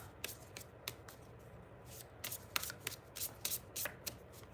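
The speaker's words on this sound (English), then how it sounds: "So, Gypsy JJ, I'm going to pull cards for your poem" Playing cards shuffled close up before pulling cards, soft sliding rustle broken by sharp irregular snaps and riffles that grow busier toward the end, quiet and without speech.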